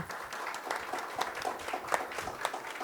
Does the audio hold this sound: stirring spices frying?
no